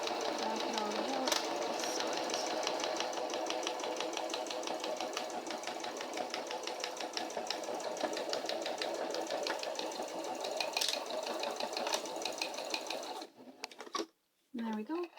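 A sewing machine stitching fabric, a steady fast mechanical whir and clatter running nearly throughout, close and moderately loud, stopping briefly near the end.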